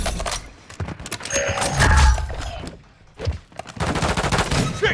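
Call of Duty gunfire, bursts of shots with heavy thuds and crashes, loud and close, with radio-style voices breaking in between.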